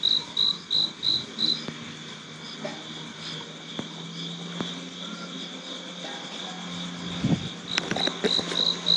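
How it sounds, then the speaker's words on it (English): Crickets chirp in rhythmic pulsing bursts on a still night in rural Sapa, Vietnam, with a steady insect drone and a low frog-like hum beneath, plus a few scattered clicks and knocks near the end. "it's pretty much silent, except for crickets and probably a couple of frogs"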